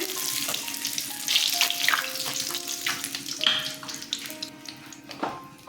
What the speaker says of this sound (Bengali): কালো ফোড়ন দিয়ে দিলাম